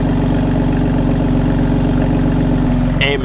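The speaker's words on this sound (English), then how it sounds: "the comp exhaust is low-key aggressive. I'm not gonna lie. That shit be like, it be grumbling." A BMW X3M Competition exhaust rumbles at idle with a deep, steady, pulsing grumble close to the microphone, and a brief higher sound appears near the end.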